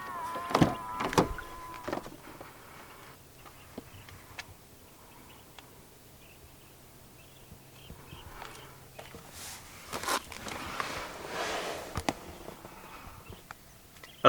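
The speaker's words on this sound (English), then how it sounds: "And to unlock the car, just press the black button again." A 2015 Hyundai Santa Fe 2.2 CRDi 4WD unlocking by keyless door-handle button, with the mirrors folding out: a brief motor whir and clunks at first, then scattered clicks, knocks and handling noises against quiet outdoor background.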